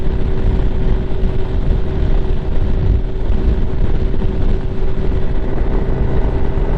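Strong wind buffets the rider of a Lifan KPX 250 dual-sport motorcycle cruising on the road. A loud, continuous roar of wind noise runs throughout, with a steady engine hum underneath and no speech.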